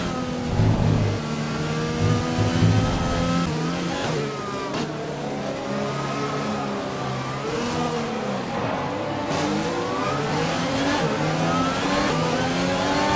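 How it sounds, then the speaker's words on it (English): Formula 1 car engine in a racing video game, rain-soaked season-opener race, entering the pits: a loud, steady high-pitched engine drone with shifting revs as it slows and settles, continuous and close throughout. "peeling into the pits now for the intermediate tyre"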